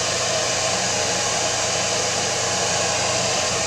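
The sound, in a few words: hair dryer drying a decoupage wood sign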